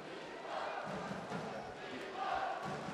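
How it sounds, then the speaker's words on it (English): Boxing arena crowd at a men's super heavyweight final roaring and cheering for Ivan Dychko, a dense, sustained wash of voices with swelling shouts, steady and fairly loud throughout. "Crowd in attendance here. All giving it up for DYCHKO."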